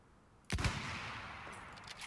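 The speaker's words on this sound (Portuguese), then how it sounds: "eu errei esse tiro ridiculamente" A gunshot in Battlefield 1 cracks sharply from a long-range rifle after a quiet lead-in, followed by a lingering rumbling echo and faint distant battlefield sounds.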